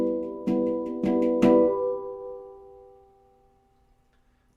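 A Halo Aegean handpan is struck three times in quick succession while the tone field is damped at the dimple, giving muted notes with a short ring that fades slowly afterward. The strikes are close and clear.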